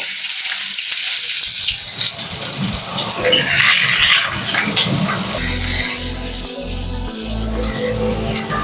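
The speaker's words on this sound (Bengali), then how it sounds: "প্রথমেই আমি পেঁয়াজ কুচিটা দিয়ে নেব" Chopped onion hits hot oil and crackles into a loud, steady sizzle, close up, with a low rumbling hum joining in toward the end.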